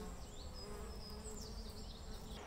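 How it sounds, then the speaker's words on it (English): Bees buzz faintly in a steady drone, with higher whines drifting past as they fly nearby among flowers. "the bees are very active, and they move quickly from flower to flower"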